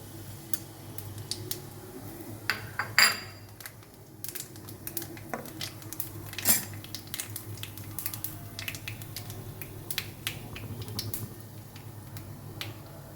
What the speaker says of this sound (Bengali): সর্ষের তেল আমার গরম হয়ে গেছে, এবার আমি দেবো কালো জিরে ফোড়ন।